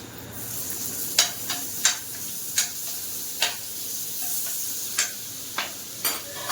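Butter sizzling in a pan around a homemade chicken pizza as it bakes, a soft steady hiss with a series of sharp ticks and crackles spaced through it, no talking.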